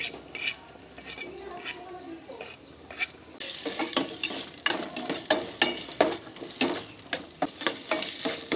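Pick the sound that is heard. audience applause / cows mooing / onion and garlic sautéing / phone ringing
onion and garlic sautéing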